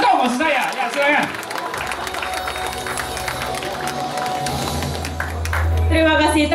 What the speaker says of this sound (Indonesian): Tepuk tangan sekali lagi dong untuk kita semua.